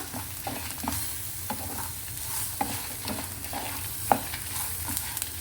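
Ingredients for ginger chutney fry in a pan, a steady sizzle running throughout with occasional scrapes and taps of stirring, close and moderately loud with no talking.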